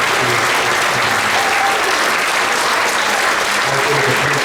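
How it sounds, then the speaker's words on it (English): A middle school band concert audience applauding, a steady, dense wash of clapping from a crowd that stays loud throughout, with faint voices mixed in. "round of applause"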